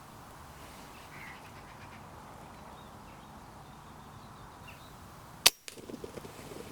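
A BSA Superten air rifle fired once at a wood pigeon outdoors gives a single sharp, loud crack after several seconds of quiet countryside ambience, followed by faint rustling and thuds.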